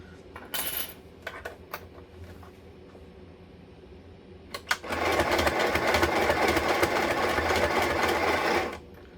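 A sewing machine stitches a fabric wristlet in one loud, steady run of about four seconds, after a few soft clicks and handling noises.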